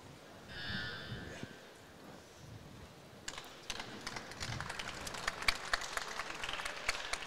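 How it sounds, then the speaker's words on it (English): Spectators at the women's 49 kg European Weightlifting Championships give a brief vocal cheer early on, then burst into a quick, dense patter of clapping that continues to the end. "And a little cheer from the crowd as the Ukrainian walked out onto the platform then again after that successful lift."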